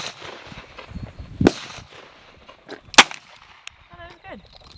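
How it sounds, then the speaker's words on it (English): A 1931 Colt Official Police revolver fires two sharp, loud shots a second and a half apart at an outdoor range, with faint voices and ambient noise between them. "The wife here is going to shoot the old Colt Official Police, circa 1931."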